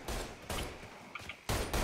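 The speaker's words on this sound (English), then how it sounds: "Shooting weapons." Gunfire from weapons in the Mafia 3 video game, a string of loud bursts of shots separated by brief pauses, close and harsh with no talking over it.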